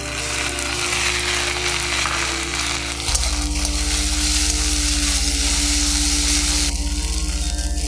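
Ginger paste, chopped tomato and split green chilies fry in a pan with a steady, close sizzle, joined partway through by a low continuous electrical hum that persists under the crackling; nobody speaks.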